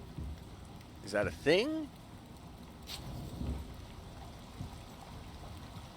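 Water running underneath a dark cave in the survival game Icarus makes a steady, rain-like hiss that continues throughout, with a person talking briefly over it.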